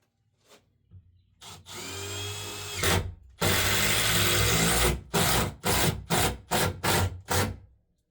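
A power drill drives screws into wooden boards at a grease and inspection pit, first in a couple of long whirring runs, then in a series of short, loud bursts as each screw is pulled down tight.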